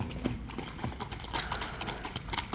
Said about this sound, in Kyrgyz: Азыр атты да минип көрсөтүп коелу.